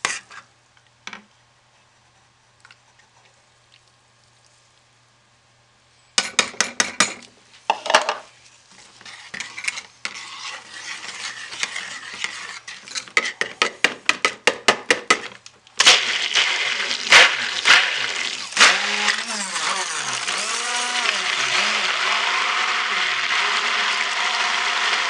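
A stick blender mixes a small batch of lard soap, starting after a quiet stretch with rattling clicks and knocks against the container, then settling into a continuous loud whirring churn.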